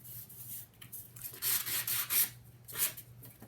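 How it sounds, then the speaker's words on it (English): Sandpaper rubs along the cut edges of a handmade album cover in short, uneven scratchy strokes, quiet and close, with a low steady hum beneath. "just take a piece of sandpaper and make it smooth"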